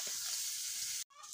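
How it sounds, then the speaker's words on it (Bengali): Potatoes frying with turmeric in a pan, cooked to go with eggs, a continuous close hiss of sizzling oil that cuts out briefly near the end and then resumes more faintly. "আলুটি ভাজবো ডিমের জন্য।"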